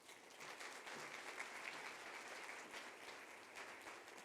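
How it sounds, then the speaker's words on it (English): Audience at a children's charity anniversary luncheon applauds, a steady, even clapping that runs throughout, heard from a distance and faint. "Let's give him another round of applause."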